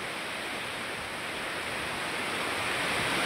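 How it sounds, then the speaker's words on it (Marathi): Water pours through the gates of Manar dam at Barul, a dense, continuous roar of falling water. It stays loud and steady from start to finish, with no voices over it. "हे आहे बाजूचं तळ आणि दरवाजातून असं पाणी पडायला लागलं पूर्णपणे"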